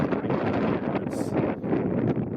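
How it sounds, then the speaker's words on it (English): Wind gusting at a mountain lake in the East Pioneer Mountains, a steady broadband roar with microphone buffeting, loud and continuous throughout with no talk. "wind is certainly blowing"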